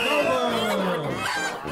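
A rooster at a crowing contest lets out a single close, loud, drawn-out crow lasting under two seconds.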